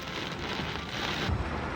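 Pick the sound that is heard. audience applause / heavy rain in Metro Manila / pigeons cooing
heavy rain in Metro Manila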